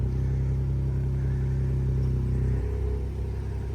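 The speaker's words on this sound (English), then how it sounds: "this is valves closed, Fenfab downpipes and OEM exhaust." Ford Ranger Raptor idling with Fenfab downpipes, OEM exhaust and valves closed: a steady, close, deep exhaust drone with strong low rumble, shifting slightly lower near the end.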